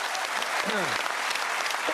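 Studio audience of a television comedy panel show applauding, a dense, loud round of clapping with a brief voice sounding over it.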